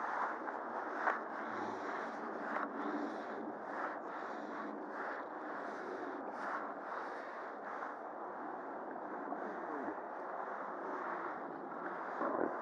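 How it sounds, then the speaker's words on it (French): Steady wind buffets the microphone in a constant low rush beside the Sichon river while fly fishing, with no voices over it. "il y a du vent"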